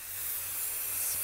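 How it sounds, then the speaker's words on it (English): Basting spray hisses from an aerosol can onto quilt layers in one steady, continuous burst, close and fairly loud, with no voices. "spray with basting spray"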